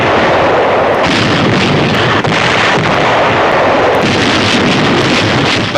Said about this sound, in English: Yank artillery cracks down on a Nazi bastion in the harbor as point-blank firing razes the last German